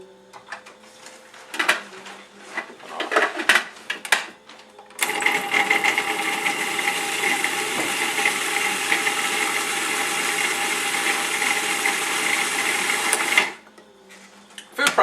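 A food processor purees peppers and tomatoes, running as a loud, steady whir for about eight seconds after a few clattering knocks from loading, then cutting off abruptly.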